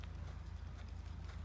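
Horse loping through a high school horsemanship pattern, a steady rhythmic run of hoofbeats going on throughout, moderately close, at fairly low level and with no talk.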